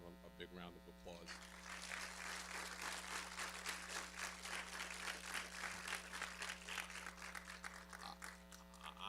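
Applause at a recovery court graduation ceremony: sustained crowd clapping rises after a brief opening and continues steadily, set over a low constant electrical hum, fairly distant and quiet.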